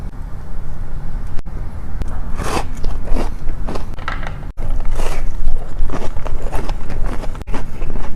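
Close, loud crunchy bites and chewing on a Crumbl cookies and cream cookie, with repeated crisp bite noises and mouth sounds in a continuous ASMR-style eating sequence.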